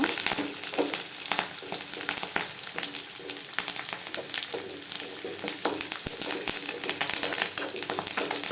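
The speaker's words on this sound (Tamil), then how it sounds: "அடுத்து புளி சேர்த்துக்கலாங்க. எல்லாம் நல்லா சேர்ந்து வதங்கட்டுங்க." Onions with curry leaves and tamarind sauté in a pan as a continuous crackling sizzle, broken by frequent small scraping clicks from stirring.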